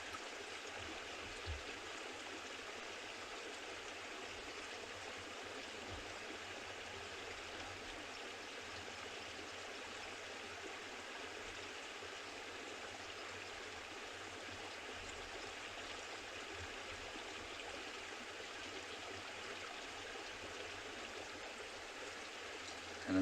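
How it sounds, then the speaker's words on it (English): A stream flows on the southern boundary of the Masai Mara near the Tanzanian border, a soft, steady rush of water with no voices. "the sound of the water is as peaceful to you as it is to us"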